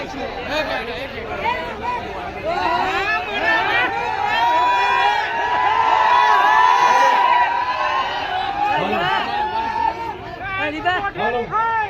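A dense crowd shouts and cheers at the opening of a tea parlour in Ahmedabad, a loud, sustained babble of many voices that swells in the middle and stays close throughout.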